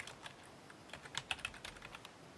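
Light typing on a computer keyboard while entering text into a spreadsheet cell: a quiet, close run of irregular key clicks with a few sharper taps in the middle, heard alone.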